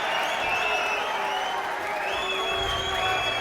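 A boxing arena crowd applauds and cheers after the fight result is announced, a steady, dense wash of clapping with no breaks, a commentator's voice riding over it.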